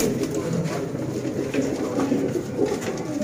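Black-faced Batera pigeons coo repeatedly in a close, throaty, rolling chorus that keeps going throughout with no gaps and no voices over it.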